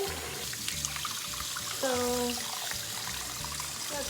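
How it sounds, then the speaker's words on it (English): Water running from a sink tap into a draining sink holding a guinea pig, a steady trickle and pour under brief speech, with a short tonal squeak partway through. "My sink does drain and she really doesn't mind the water coming out."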